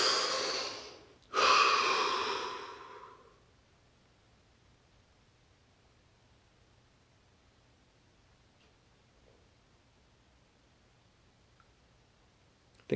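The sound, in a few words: deep breathing during relaxation exercise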